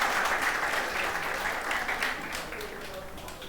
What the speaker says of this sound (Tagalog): Palakpakan muna po natin si Jesus.